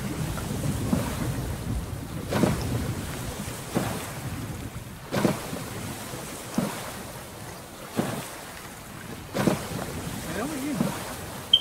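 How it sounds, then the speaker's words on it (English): Thunderstorm over open ocean in the survival game Stranded Deep: a low rumbling wash of rain and sea broken by roughly six recurring thunder cracks, with faint voices in the background. "it's about the storm"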